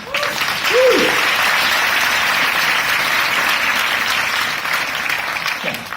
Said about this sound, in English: could you do a round of applause for yourselves, please?